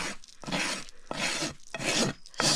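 A rasp files a horse's hoof during barefoot trimming, four loud rhythmic rough strokes close up, each a harsh scraping burst separated by brief pauses.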